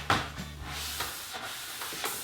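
A scrub pad rubs against the gas tank of a wrecked Ducati Monster motorcycle, making a few brisk, close scraping strokes over a faint background hum.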